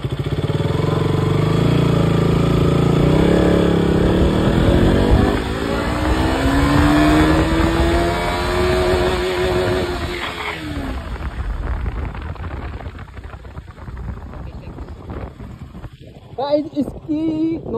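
A KTM RC or Yamaha MT-15 motorcycle accelerates hard in first gear, its engine note climbing loudly as it revs out, then dropping back and fading under wind noise with brief talk near the end.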